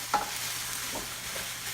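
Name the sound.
stirring ground beef with onions in frying pan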